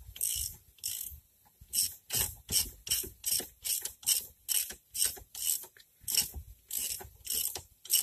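A ratchet working on the wheel bolts of a Chevrolet Cavalier during a wheel bearing replacement, with rapid rasping clicks in steady back-and-forth strokes, about fifteen bursts close to the microphone, no talking.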